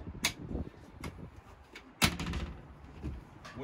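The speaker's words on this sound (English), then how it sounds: "Partition door closes." The partition door on a Cobia 280DC boat shuts with a few light clacks, then one louder, close latching thud, followed by a brief rattle.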